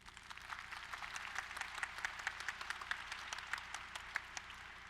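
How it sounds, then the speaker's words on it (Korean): Audience applause after a mentoring talk at a Korean youth forum stage show, a steady dense wash of many hands clapping at moderate distance, continuing throughout with no voices. "다시 한번 뜨거운 박수로 격려해 주시면 고맙겠습니다"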